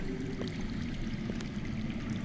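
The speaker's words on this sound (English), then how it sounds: "That's water. I hear water. From underground." Steady water flowing underground in a Game of Thrones video game, a continuous low rushing trickle that holds level throughout, with a few faint clicks on top.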